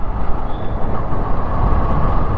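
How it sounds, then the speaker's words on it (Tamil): Heavy city road traffic in Bangalore near the Raj Bhavan, a steady dense roar of engines from trucks, buses and cars, loud and continuous without any voices. "இந்த நேரம் வந்திருக்கிறதுனால இந்த அளவுக்கு இருக்குது டிராஃபிக்"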